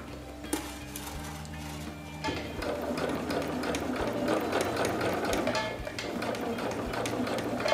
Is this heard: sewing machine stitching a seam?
yes